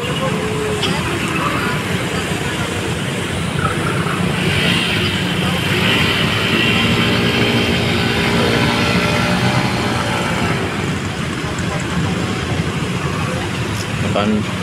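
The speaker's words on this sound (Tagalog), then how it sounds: "Pinapaandar pa ang motor oh." On a flooded street near Luneta, a motorcycle resting on a gutter keeps its engine running, a continuous steady drone mixed with the wash of water and traffic, while a person talks over it throughout.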